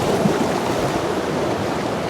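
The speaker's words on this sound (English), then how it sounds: "the water keeps popping through the rocks and splashing up" Rushing seawater surges and splashes steadily among rocks at Whale Beach, a dense, continuous wash of water noise close by with no voices.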